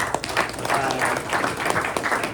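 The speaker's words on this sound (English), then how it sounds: "Let's give him a round of applause." A room full of people at a press luncheon breaks into a brief round of applause, steady clapping throughout without any voices on top.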